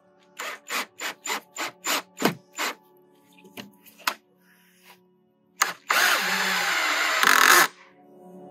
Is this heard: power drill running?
yes